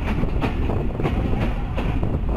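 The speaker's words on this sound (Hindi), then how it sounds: "हरनपुर रेलवे स्टेशन पे पहुंच रही है मलकवाल पिंड दादन खान शटल ट्रेन" The Malakwal–Pind Dadan Khan shuttle train of Pakistan Railway arrives at Haranpur station, a loud steady rumble of rolling railcars with rhythmic clacking over the rails and some wind buffeting the microphone.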